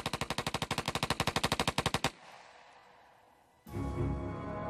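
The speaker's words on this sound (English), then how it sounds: "Vern Miller was reportedly so good with a machine gun, any machine gun, that he could write his name in bullets." A machine gun fires a rapid sustained burst of about twenty loud close shots, then cuts off into a fading echo before a second loud blast of noise near the end.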